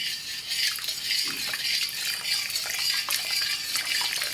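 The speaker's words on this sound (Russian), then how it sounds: "потихоньку выливаем крахмальную воду сюда" A steady thin stream of starch water trickles and splashes continuously into teriyaki sauce close by, with small clinks and stirring noises mixed in.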